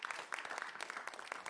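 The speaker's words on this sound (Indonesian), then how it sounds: "Boleh berikan tepuk tangan yang semangat untuk seluruh pasangan calon." A crowd at a live public debate for Makassar mayoral and vice-mayoral candidates claps steadily for the candidate pairs, with dense, even applause heard at a distance throughout and no talking.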